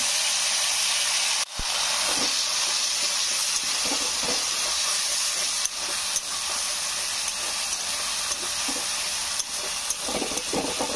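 A spice paste goes into hot oil already frying whole cumin, bursting into a loud, continuous sizzling hiss with occasional stirring clicks, close and steady throughout.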